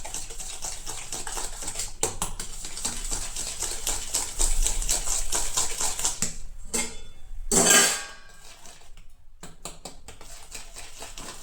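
A utensil beats eggs and sugar in a bowl for an egg cake, a fast stream of clicks and scrapes near the bowl with a few short pauses and one louder swirl near the end.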